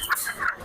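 Chickens at a large live-poultry market in Mirpur cluck in several short, bright bursts, one after another, fairly close and moderately loud against a busy background.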